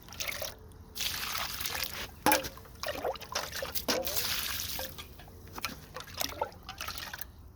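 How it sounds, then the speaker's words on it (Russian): Liquid compost fertilizer is ladled onto pepper plants in a garden, giving a series of close splashes and trickles, several separate pours with gaps between them and some speech mixed in. "И буду поливать сразу удобрением."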